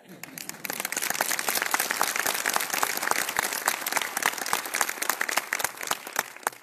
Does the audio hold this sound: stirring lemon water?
no